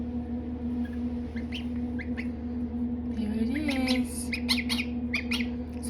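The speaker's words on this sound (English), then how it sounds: "Not a duckling, a gosling." A newly hatched gosling in an incubator calling, a few thin high peeps early on and then a quicker run of squeaky chirps, close and fairly faint over a steady mechanical hum.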